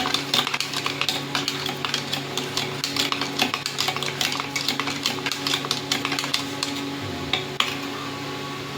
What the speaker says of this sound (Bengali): আর হলুদ গুঁড়ো, এটাকে দিয়ে ভালো করে ঘেটে নিতে হবে।